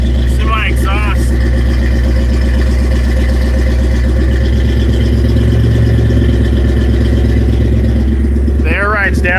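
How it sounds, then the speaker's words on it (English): A car engine idles loudly and steadily just after a cold start, with a deep, even exhaust rumble throughout and a person speaking briefly over it at the start and end. "See my exhaust."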